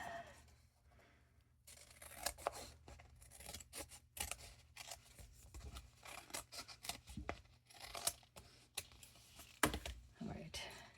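Scissors snip paper for a handmade peacock envelope journal: a quiet, uneven run of close, crisp cuts and small rustles, with soft talking in places.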